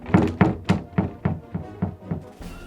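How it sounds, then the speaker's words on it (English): A surfboard wobbled as diving-board foley gives about nine rhythmic hollow thunks, close and evenly spaced, which fade slightly toward the end. "Well, we're using a surfboard today. So when you wobble it,"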